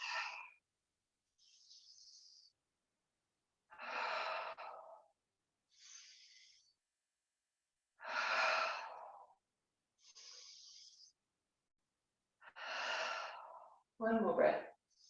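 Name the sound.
slow deep breathing, inhaling and exhaling during meditation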